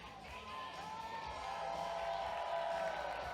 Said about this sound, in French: On entend l'amour du public amossois qui les encourage